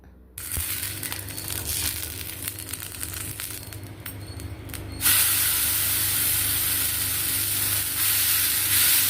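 Pearl millet adai batter roasts on an oiled tawa with a close, steady sizzle and scattered crackles, and a brighter, louder hiss swells halfway through and holds to the end, with no talking.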